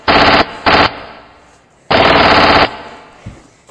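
Loud, close machine gun fire in a combat scene, heard as two short bursts followed by a longer sustained burst of rapid shots, with no talking.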